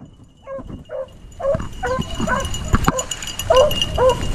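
Several hunting dogs chasing cottontail rabbits on a frosty morning give repeated high yips and barks, some near and some farther off, in uneven bursts, with a voice and rustling moving underneath.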